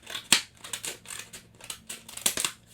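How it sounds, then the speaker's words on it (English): Scissors snip through a folded, stapled paper plate in a craft setting, giving a few sharp close cuts among softer crunching paper sounds, with no talking. "So I'm going to cut out the bottom. I'm cutting where I folded it."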